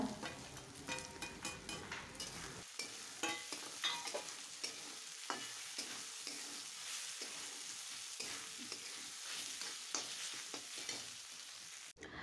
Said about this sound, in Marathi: त्यानंतर मी याच्यामध्ये टाकणार आहे कोथिंबीर आणि कांदा, तोही मसाल्यामध्ये मस्त परतवून घ्यायचा।